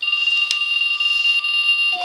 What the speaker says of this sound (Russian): Будильник.